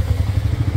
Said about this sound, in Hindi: ऑन करता हूँ एक बार बाइक को